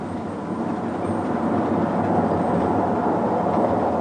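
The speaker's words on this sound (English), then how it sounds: "this terminating train crosses over to the right-hand track" A terminating train rumbles steadily along the tracks as it crosses over to the right-hand track, a broad continuous roar that swells slightly louder as it goes, with no voices.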